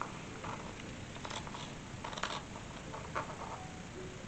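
Scissors snipping through semi-sheer wool fabric to cut doll dress sleeves, a few quiet, crisp cuts in short bursts close by against a hushed room, with no talk.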